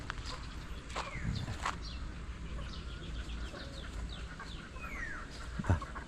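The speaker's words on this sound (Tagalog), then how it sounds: "Dalawang manok." Chickens cluck softly at a distance, with a few scattered bird calls over faint background noise.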